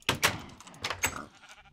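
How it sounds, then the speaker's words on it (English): Several short bleats from Minecraft sheep in a Sky Factory 2 modded world, a quick run of nasal calls close by, then tapering off. "we got sheep over there"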